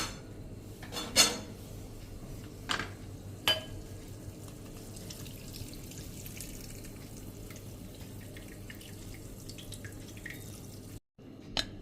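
Hot ghee strained in a home kitchen, with faint drips and a few light clinks of a metal pot and utensil, sparse and quiet against a low background hum.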